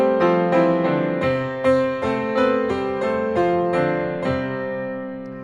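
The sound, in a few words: English church bells ringing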